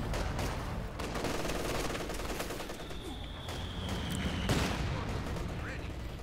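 Mortar and artillery fire thumps and crackles in the strategy video game Company of Heroes 2, with dense battle gunfire and explosions running throughout beneath a commentator's voice.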